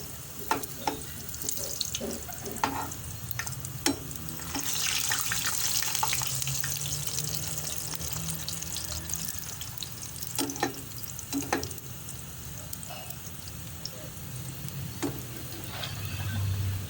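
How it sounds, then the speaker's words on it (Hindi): Bitter gourds (karela) stuffed with minced meat fry in a pan, a steady soft sizzle broken by sharp clinks and scrapes of stirring, with no talking. "पर करेला अंदर तक अल्हम्दुलिल्लाह फ्राई हो चुका है।"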